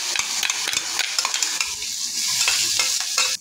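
Cumin and mustard seeds hit hot oil in a kadhai and sizzle and crackle steadily, with sharp popping bursts and scraping stirring sounds, heard up close with no talking.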